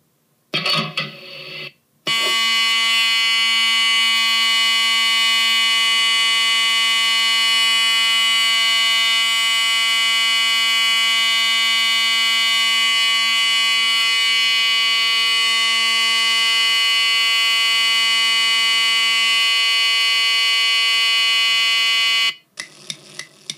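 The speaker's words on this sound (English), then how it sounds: "I am going to pull the fire alarm as a prank" A school fire alarm rings continuously, a loud harsh electronic tone holding steady for about twenty seconds before cutting off abruptly, with brief noise before and after.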